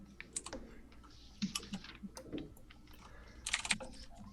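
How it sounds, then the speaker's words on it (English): Someone types steadily on a computer keyboard with a slightly stuck key, producing quick irregular key clicks that come in short bursts, fairly close and soft, with no speech. "I'll be typing this in as well."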